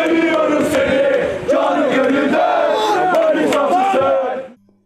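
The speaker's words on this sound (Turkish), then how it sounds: "Manisa Gençlik Taraftar Grubu tarafından tezahüratlarla Samsun deplasmanına uğurlandı" Manisa FK supporters from the Manisa Gençlik fan group chant in unison as a crowd, loud and sustained, seeing the team off before an away match in Samsun, then fading out at the end.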